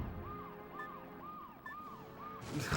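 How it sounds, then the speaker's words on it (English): A wailing police siren in the Metal Wolf Chaos video game, repeated rising and falling hoots in a steady rhythm, heard at a distance in the background before a burst of noise at the end. "siren in the background"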